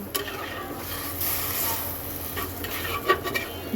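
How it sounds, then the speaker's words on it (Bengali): Fried prawns tossed with onions in a pan, soft scraping and stirring over a low sizzle, with a few brighter clinks of the utensil near the end. "কষানোর মাঝখানে আমি ভেজে রাখা মাছগুলি দিয়ে দিলাম এবার আমি পেঁয়াজগুলোর সাথে খুব সুন্দর করে মিক্সড করে দেবো"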